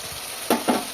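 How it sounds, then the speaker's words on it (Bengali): Dry ground spices (cumin, coriander, Kashmiri chilli) with a splash of water, cooked down over medium heat for chicken curry, give a soft sizzle and two quick stirring scrapes at close range, with no talking. "মিডিয়াম আঁচে রেখে কিছুক্ষণ কষিয়ে নেব মশলাটা"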